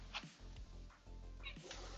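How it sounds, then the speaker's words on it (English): Cats clash in a quick fight, with a few short, strained meows and yowls rising in separate bursts over roughly two seconds against a constant low room hum. "Yeah, I had to deal with a quick cat fight."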